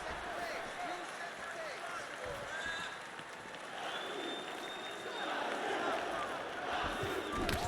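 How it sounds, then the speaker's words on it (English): A video game crowd in UFC 4 roars and cheers at a fighter's takedown in a welterweight bout, a sustained arena din that swells toward the end. "Nice pop there from the crowd as he finally gets the takedown."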